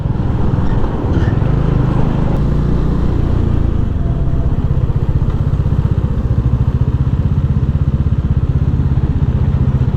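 Bajaj Dominar motorcycle riding on a road, a loud, steady, low engine thrum with rapid pulsing and wind rush throughout, close and continuous.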